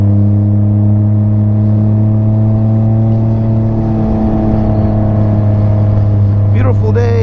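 A 2021 Can-Am Ryker with a Rally exhaust idles loudly and close by, a deep steady drone with strong low harmonics, ending with a brief higher whine.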